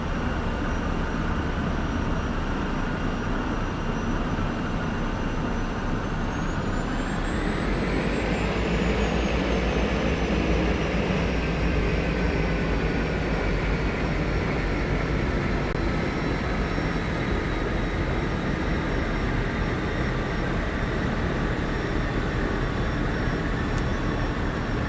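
A Cessna's engine drones through a takeoff in Flight Simulator 2024, a steady loud hum whose pitch rises midway as power comes up and then holds, with no speech.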